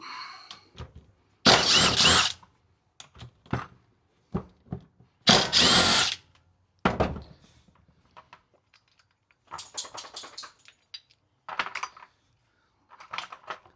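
A power tool rattles bicycle parts apart in two loud, short bursts, with clinks of metal parts and lighter tapping between and after them, close up in a quiet workspace.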